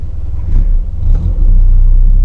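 A Fiat 600 (Fičo) pulls away, its small engine rumbling loud and close with a low, steady drone that swells as it accelerates over a couple of seconds.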